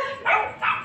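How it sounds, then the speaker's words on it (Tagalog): Two sharp dog barks about half a second apart, fairly close, with a low hum of background noise between them. "Ang daming aso dito"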